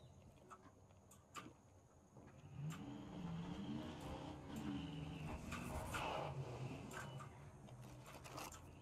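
Pickup truck engine in the open-world shooter Far Cry 5, a mid-pitched motor that picks up and revs steadily from about three seconds, rising and falling through gear shifts, with scattered game noises and no talk.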